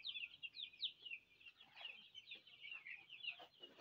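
A flock of Brahma and Fayoumi crossbreed chicks peeping and clucking close by, a busy stream of quick high chirps with light rustling in a quiet indoor coop.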